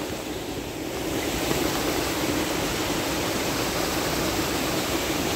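Water flows steadily beneath a wooden footbridge and runs on into a stream, a constant broad rushing wash heard close up and alone, without pause or change.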